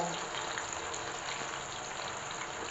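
Field beans (avarekalu) frying in hot oil for a snack mixture, giving a steady, dense crackling sizzle that holds evenly throughout, close and without any talk.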